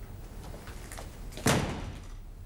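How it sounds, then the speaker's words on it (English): A door shuts with a single solid slam midway through, sharp and close, after a quiet room tone with faint shuffling. "Close the door."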